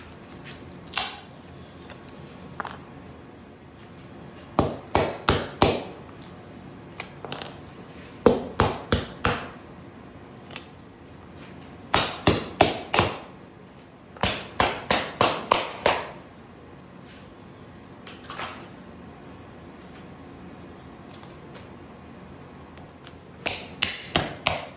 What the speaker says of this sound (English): it's time to enjoy the sounds of demolding.